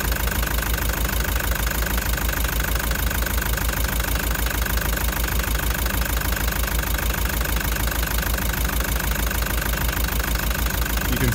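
A car engine with a cracked piston runs steadily at idle, rocking side to side, with a continuous knocking rumble close by and no pauses throughout.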